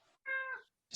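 A house cat lets out a single clear, fairly close meow lasting under half a second, preceded by a faint sound and followed by a brief breathy noise, with no talking.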